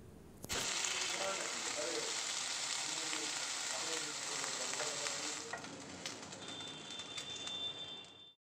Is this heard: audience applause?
no